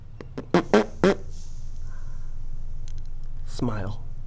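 A person blows a few quick, loud fart-like raspberry noises for a baby, a voice imitating flatulence in short bursts, followed by quiet and a brief cooing voice near the end.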